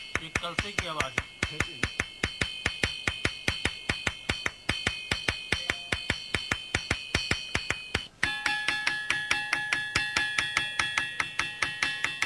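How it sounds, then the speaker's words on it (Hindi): A rock in the Banda hills is struck again and again, ringing out like a metal kalash pot. The clear, bright strikes come in a steady fast rhythm, close and loud, and the tone shifts higher and denser partway through. "ये कलसे की आवाज है।"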